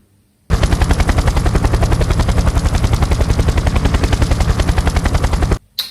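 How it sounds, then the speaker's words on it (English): A toy helicopter sound effect plays as a loud, steady rapid rotor chop lasting about five seconds, starting abruptly and stopping suddenly, heard alone with no talking. "I'm just playing the sound of the helicopter"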